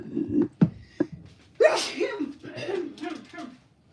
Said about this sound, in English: I sneezed in my shirt.